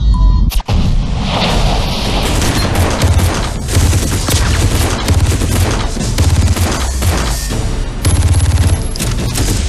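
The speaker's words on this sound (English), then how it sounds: "Grenade! Take cover!" Dense gunfire and heavy explosions, including a grenade blast, crash and rattle loudly and continuously through a Far Cry 3 co-op firefight on Xbox 360, with a sharp boom near the start.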